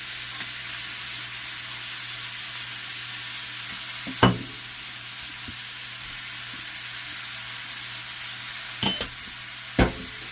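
Vegetables sizzle in a pan with a teaspoon of oil for a cheese steak sloppy joe filling, a constant close frying hiss broken by a few scraping stirs of a utensil.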